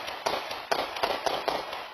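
Rapid pops ring out at night in a residential neighborhood, a string of about seven or eight sharp, fairly distant cracks in irregular rhythm over steady background hiss, like gunfire or firecrackers.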